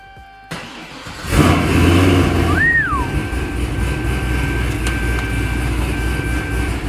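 An 800-wheel-horsepower Corvette Z06 engine is started and revved hard, rising into a loud, sustained roar that holds steady with rumbling throttle blips, close by and alone.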